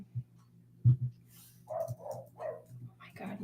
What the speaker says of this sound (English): my neighbor's dog is driving me nuts